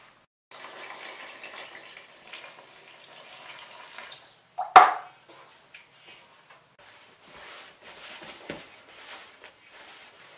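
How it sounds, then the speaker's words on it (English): Lukewarm water, about 300 to 350 ml, poured into a mixing bowl for bread dough in a home kitchen: a steady low trickle runs for several seconds, then a brief louder splash, followed by softer intermittent pouring. "All that's left now is just to put about 300 ml of kind of lukewarm water"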